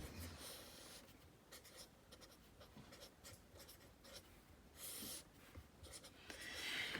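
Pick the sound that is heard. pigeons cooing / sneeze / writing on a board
writing on a board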